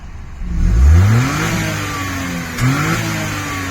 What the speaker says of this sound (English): Engine running, nice and hot.